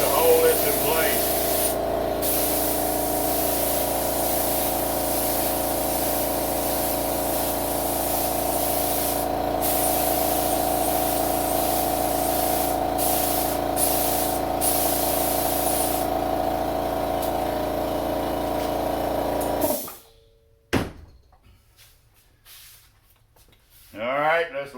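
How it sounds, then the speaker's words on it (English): A spray glue gun applies adhesive inside a 1959 Ford 300, giving a loud, steady hiss that runs for about twenty seconds before cutting off, followed by quieter handling noises. "you can really get a nice spray pattern using for a glue gun"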